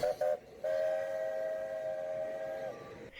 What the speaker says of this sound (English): This is a South African Railway standard 3-chime.